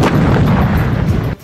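Heavy bombardment during a large Russian military drill on a deserted range, a continuous loud, booming rumble of blasts that cuts off abruptly near the end.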